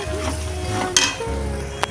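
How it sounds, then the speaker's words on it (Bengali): Spiced chicken being stirred in a pan for kosha, with a steady sizzle under soft scraping and two brief metallic clinks of the spoon against the pan. "এখন ভালো করে এটাকে নাড়িয়ে সমস্ত মাংসের গায়ে মশলাটাকে ঢুকিয়ে দেবো।"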